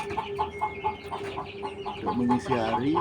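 Chickens cluck in a backyard chicken coop, a steady run of short repeated clucks close by with a brief louder call near the end, over a faint background murmur.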